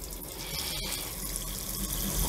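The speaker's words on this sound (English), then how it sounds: "you wanna wash them off with the soap and the water" Plates are washed with soap under running tap water, a steady close splash and trickle over a sink with a few clinks.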